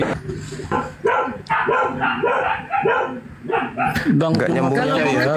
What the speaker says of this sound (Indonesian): Itu ada suara guguk itu.